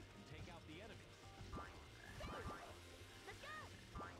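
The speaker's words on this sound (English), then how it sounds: "I don't want to interact with that frog" A frog in the Sonic Heroes video game croaks repeatedly with swooping, rubbery calls among other cartoonish game sounds, faint overall, and someone talks over them.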